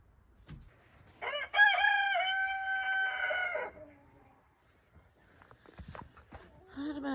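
A rooster crows once close by, a long wavering cock-a-doodle-doo, followed by soft clucks and faint rustling from chickens in a coop on a freezing farm.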